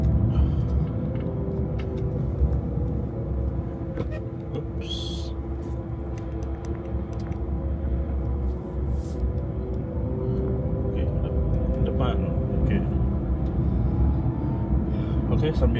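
Steady low motor rumble and road noise inside a moving Wuling Air EV electric car, continuous throughout, with faint voices and small clicks in the cabin.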